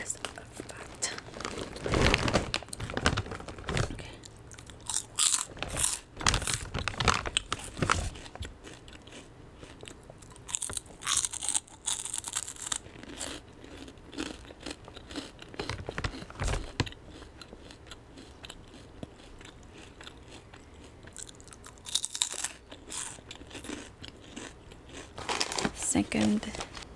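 Harvest Snaps green pea snack crisps, baked pea crisps, being bitten and chewed up close with crisp crunches and crinkling of the snack bag, in irregular bursts through the whole stretch with soft quiet gaps between.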